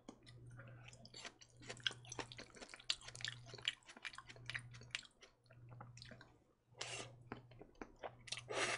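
Close, crisp chewing and slurping of chewy homemade jajangmyeon noodles in black bean sauce, with continuous wet mouth sounds and small crunches, a low steady hum underneath and no talking.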